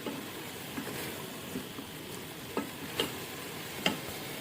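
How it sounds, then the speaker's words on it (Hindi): Small chopped potatoes fry with cumin in a pan for mutton keema, giving a faint sizzle with occasional clicks and scrapes as they are stirred. "आलूओं को भी साथ ही भून लें।"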